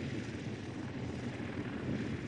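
A restored historic aircraft drones with a steady, loud, broadband engine roar at Duxford airfield, the sound continuous and unbroken, with no speech.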